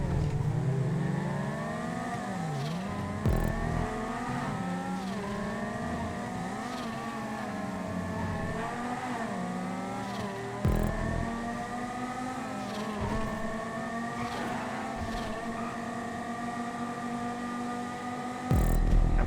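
Racing car engines in a GTA 5 multi-class event race, sports, muscle and coupe cars, including a Banshee GTS, rev and whine steadily with rising and falling pitches as gears shift. Occasional bumps and thuds break in, with no talk.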